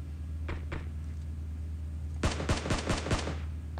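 Gunfire in PUBG Mobile: two faint early shots, then a rapid close burst of about five loud cracks in quick succession.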